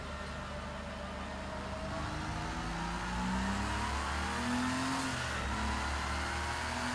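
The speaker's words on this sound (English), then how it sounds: "These flat racing motors" A Porsche 961 racing car's flat engine in Project CARS 2 revs continuously with a smooth, flat mechanical drone, rising in pitch as it accelerates, steady and loud throughout.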